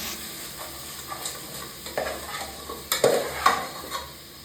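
Biryani masala with garam masala and salt gets stirred in a pan, a soft frying sizzle punctuated by several sharp spoon scrapes and clinks that grow louder toward the end, no talking.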